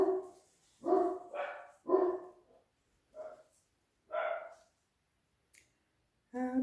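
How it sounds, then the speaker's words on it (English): A dog barks in a run of loud, close bursts, several sharp woofs in quick succession with short pauses, then a lone faint yip and a final bark, in an indoor setting where acrylic pouring is underway. "There goes the dog again."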